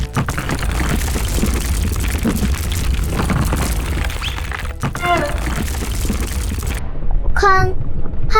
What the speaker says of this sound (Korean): 쾅! 화산이 폭발했고 뜨거운 용암이 도로 위로 흘러내렸습니다.